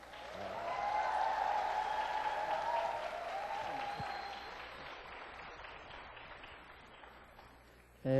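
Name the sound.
audience applause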